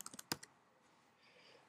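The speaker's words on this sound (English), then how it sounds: "You start typing" Fingers type on a computer keyboard, a quick burst of five or six crisp, close key clicks, then quiet room tone, faint and alone.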